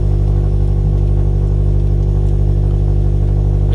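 A 2013 Subaru BRZ, fitted with an STI part, idles with its door open, giving a loud, deep, steady engine rumble with a faint clatter over it and no pause.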